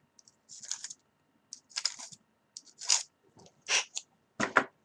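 Brass tubing being cut into short segments for a Nerf Jolt turret build: a series of about six sharp, close, crisp cutting snaps and crunches, spaced roughly a second apart with quiet gaps between.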